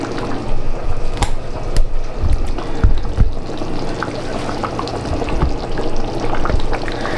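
Broken lasagna noodles simmering in a pot of lasagna soup on a stovetop: a loud, continuous bubbling and sizzling wash with occasional stirring clunks, no voices.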